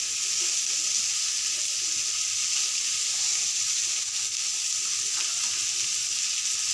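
Mixed vegetables frying with cumin, garam masala and sabzi masala in a pan, a steady loud sizzle with a constant hiss throughout and no pauses.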